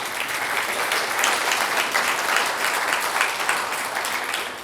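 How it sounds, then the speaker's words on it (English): Steady audience applause at a social inclusion forum, a dense, even patter of many hands clapping throughout that fades slightly at the end. "I think that deserves a round of applause to start us off"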